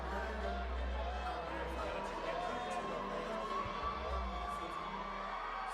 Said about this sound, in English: now you hear the ovation of the crowd